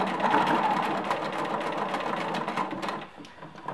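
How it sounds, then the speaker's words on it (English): A sewing machine runs steadily up close, stitching a knit V-neck neckband onto a T-shirt, its fast even whir continuing almost unbroken before easing slightly near the end. "we're going to continue sewing again about an inch away from the point"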